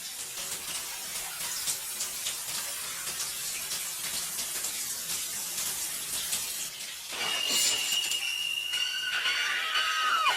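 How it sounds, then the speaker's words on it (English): Steady rushing water spray with broad hiss, growing louder and brighter partway through as a high squeal joins in; no voices. "the clueless Marion decides to take an evening shower"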